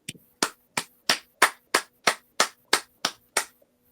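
Slow, evenly spaced single claps, about ten sharp hand claps in a row at a steady pace, fairly close and clear in a quiet room with no talking.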